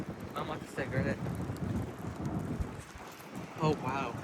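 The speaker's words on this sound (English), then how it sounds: "Oh wow. He's starting to downpour now." Heavy rain pours down in a storm with a low rumble of thunder, rushing and wind-buffeted, while people talk intermittently over it.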